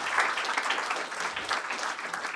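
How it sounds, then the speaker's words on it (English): Audience at a conference on development cooperation with youth breaks into dense, lively clapping that stays full and even for a couple of seconds. "je veux que vous applaudissiez chacun d'entre vous parce que vous montrez que c'est possible"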